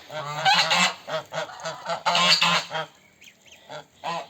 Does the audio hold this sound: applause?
no